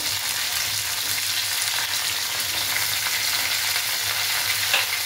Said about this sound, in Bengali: এখানে গাজর আর রাঙালুটাও ভাজা হয়ে গেছে